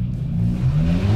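A Skoda Octavia 1.8 Turbo with an aftermarket exhaust revs up, a loud, close engine note that rises steadily in pitch over a brief burst, with no voices.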